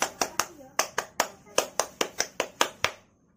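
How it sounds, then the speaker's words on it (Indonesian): Indonesian scout-style rhythmic clapping, about fourteen sharp, close hand claps in a patterned sequence with brief pauses between groups, ending abruptly into quiet. "Mari kita tepuk pramuka. Tepuk pramuka."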